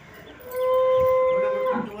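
A newly bought cow lets out a single long, clear moo close by, steady and drawn out over a faint outdoor background.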